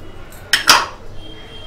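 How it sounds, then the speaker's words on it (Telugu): Coriander seeds stirred while dry-roasting in a pan on low flame, with two sharp metallic clinks of a spoon against the pan in quick succession, close and clear over a quiet background. "ఈ ధనియాలు కూడా మాడకుండా లో ఫ్లేమ్లో కలుపుకుంటూ వేయించుకోవాలి."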